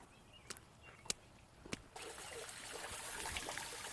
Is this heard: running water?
yes